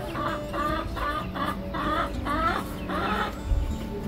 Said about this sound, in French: écoutez-moi le son des poules. Elles font un bruit en ce moment